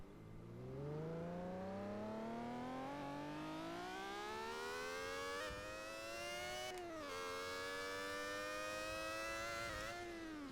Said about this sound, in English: I put the RPM to the max that it will go. So this is probably going to sound very high pitched.